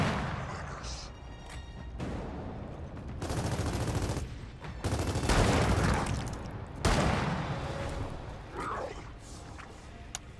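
Sniper rifle fire in a Gears of War 4 campaign battle: loud, repeated booming shots and crackling bursts stack into heavy, continuous combat noise with sharp impacts throughout.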